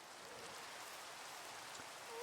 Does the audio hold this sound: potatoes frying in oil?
no